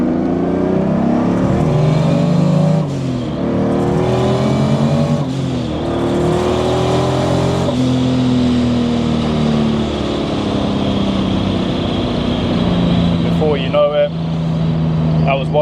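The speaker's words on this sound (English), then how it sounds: "So now I'm on a good stretch of road to open it up." Mercedes 190E fitted with a 300 SL gearbox accelerating hard along an open road, engine note climbing steadily through the revs with gear changes, loud and close from inside the car, with a brief rattle near the end.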